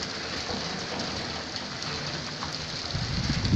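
Rain falls steadily on a rooftop as a broadband patter, fairly soft and continuous, thickening slightly toward the end.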